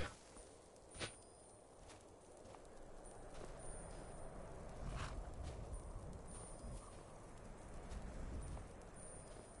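Horse hooves clip-clopping in the video game Skyrim, a steady run of hoofbeats over a rumbling, noisy background, with no talk.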